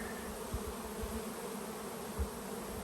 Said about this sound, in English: This one's got too many bees.